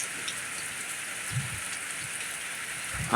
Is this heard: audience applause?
no